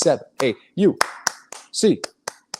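A man counts aloud over a quick run of sharp, close hand claps for UCLA Bruins fans, with about six crisp claps closing out the rhythmic sequence.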